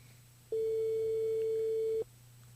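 A single telephone call tone sounds as a contest winner is called, one clean steady beep of about a second and a half rising out of a quiet line hum and then cutting off.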